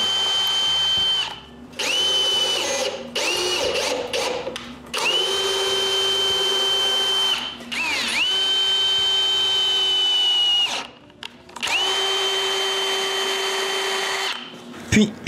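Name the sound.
drilling holes in sharpening station guide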